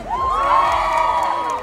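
Crowd at the Aling Puring Convention 2025 cheering and shouting, a loud, close burst of many high voices whooping together, swelling and holding for the whole short moment.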